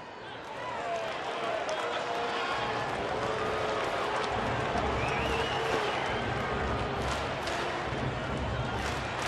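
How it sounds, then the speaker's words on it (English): Baseball crowd noise from a Dodgers at Rockies game, a steady, dense wash of voices with faint booing blended into the ongoing roar, heard from a distance under the broadcast ambience. "you hear guys booing a little bit in the background"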